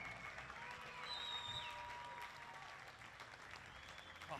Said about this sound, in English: Have we make plenty of noise for Michael Stewart